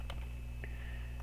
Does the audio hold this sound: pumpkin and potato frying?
no